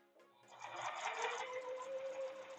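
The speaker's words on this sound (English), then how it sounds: "While I am sewing these pieces up" A sewing machine stitching Kona cotton patchwork pieces, a quiet, close, rapid mechanical whir after a short pause at the start, running steadily to the end with no talk.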